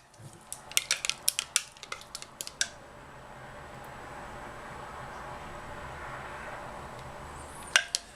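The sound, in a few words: spatula taken out of a soap batter container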